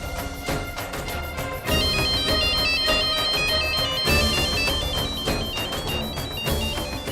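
A melodic electronic ringtone plays loudly and continuously, its tune repeating in phrases over a thumping musical backing.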